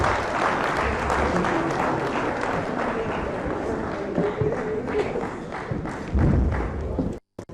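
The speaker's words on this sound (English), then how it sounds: "Please, can we give the two ladies a big round of applause?" An audience at a housing mortgage scheme launch ceremony applauds with dense, sustained clapping and some thumps, fairly close, briefly swelling near the end before cutting off.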